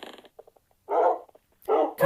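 Dogs in a video game let out a few short, close growls, with two longer rumbling snarls separated by brief gaps.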